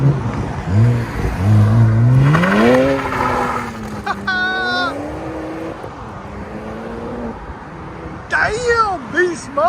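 A small BMW pulls away hard in a drive-off, the engine note climbing loudly through rising revs and shifts before easing off, with people talking and cheering over it.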